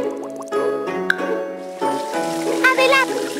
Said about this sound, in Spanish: Ahora tendremos que enjuagar todas esas burbujas con agua.